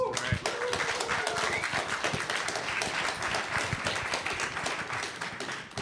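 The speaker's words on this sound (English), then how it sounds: "Senator Ben Allen, round of applause, please." An audience applauds a senator introduced at an event on entrepreneurs and government, a dense, steady round of clapping lasting throughout at close range.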